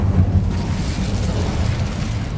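A fire spell is cast in a fantasy wizarding game, giving a loud, sustained whooshing roar of flame that stays full and steady throughout with no voices.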